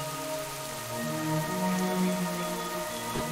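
Steady rain falling on surfaces in World of Warcraft's Elwynn Forest, a continuous patter of drops under big trees, with a faint music-like tone in the background and no talk.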